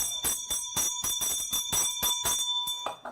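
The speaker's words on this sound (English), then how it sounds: "Ring the bell." A bright bell rings in rapid repeated strikes, about a dozen evenly spaced clangs with a lingering metallic tone.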